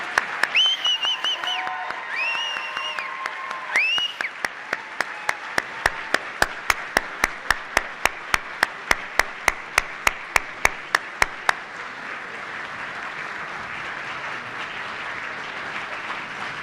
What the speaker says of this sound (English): please join me in a warm round of applause as I present to you the class of 2027